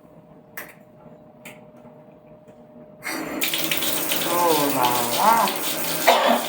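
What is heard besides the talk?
bathtub tap running water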